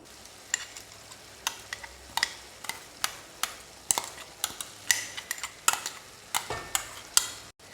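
Crushed green chilli, ginger and garlic fry in a hot pan. A rapid series of sharp spatula strikes and scrapes rings out over a faint background sizzle, close up, with no voices.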